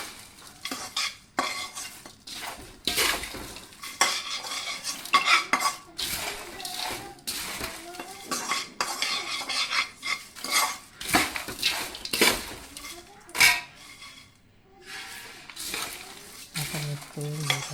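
Makhana chivda being tossed with spices in a pan, irregular bursts of rattling, scraping and clinking from a ladle against the metal pan over a faint sizzle, close and uneven with pauses between strokes.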